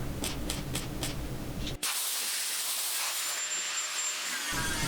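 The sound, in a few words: air blower cooling a weld on a 1970 Triumph TR6 fender stand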